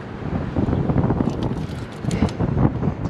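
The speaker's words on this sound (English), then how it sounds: "And it is windy today." Strong wind blows steadily across an outdoor microphone during a truck repair, a loud continuous rush and buffeting with no speech.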